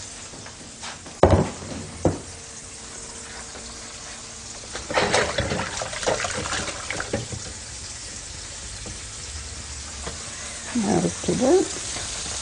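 A second batch of fish fries in hot oil, giving a steady, soft sizzle with bursts of louder crackling and spattering near the start, midway and at the end, while a voice briefly speaks.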